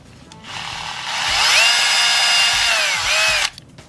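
A power drill bores into cardboard: one close, steady, high whine that rises in pitch and holds for about three seconds before cutting off abruptly.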